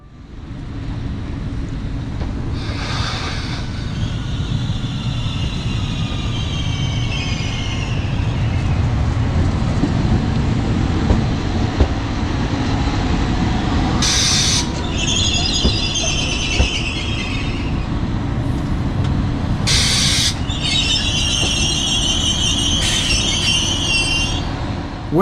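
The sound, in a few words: train arriving at station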